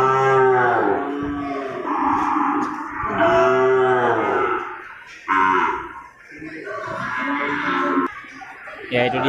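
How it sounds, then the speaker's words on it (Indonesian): Cattle moo repeatedly at a livestock market, several long deep lowing calls one after another, close and loud, with brief gaps between them. "suasana pasar hewan Gelumpang Payung tanggal 13 Juni 2020"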